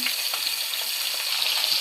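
Pieces of rohu fish fry in hot oil in a pan, a steady, close, bright hiss of sizzling that holds level throughout with no voices.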